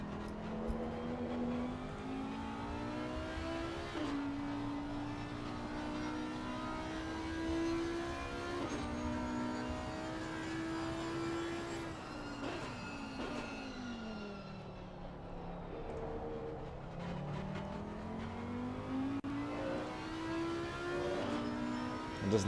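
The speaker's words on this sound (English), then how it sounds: "that Audi engine rattling down toward the final chicane" An Audi race car engine in Assetto Corsa Competizione at Zolder, heard on board with a harsh rattling tone that rises and falls as it revs and slows toward a chicane, loud and steady throughout.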